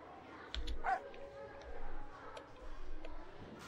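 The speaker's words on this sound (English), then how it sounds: "Bark long enough so Ian can hear you and reunite with him." A dog barks in the video game Ian's Eyes, giving several short, medium-loud barks spread across a few seconds over background game sound.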